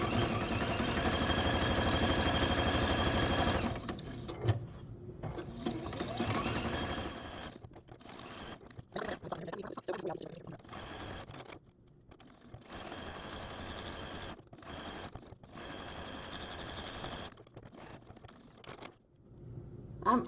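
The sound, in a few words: sewing machine stitching appliqué tree trunk pieces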